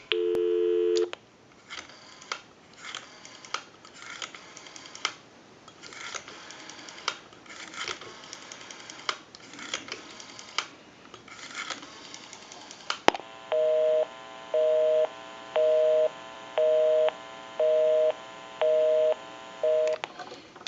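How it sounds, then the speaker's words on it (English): A Wedgwood Jasper rotary desk telephone under repair gives a steady dial tone, then a string of clicks, then a regular pulsing busy signal with even on-off beeps, clear and close with no talking. "We can give you some dial tone. We'll call my number and it'll be busy."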